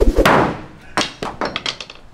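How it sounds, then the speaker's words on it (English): A claw hammer lands a few hard thunks, starting with one loud knock and followed by a quicker run of sharper taps, close and clear with no talking. "you might need a hammer"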